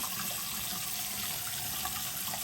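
Cold water runs in a strong, steady stream from a Moen bathroom sink faucet, a continuous close hiss and splash with no talk.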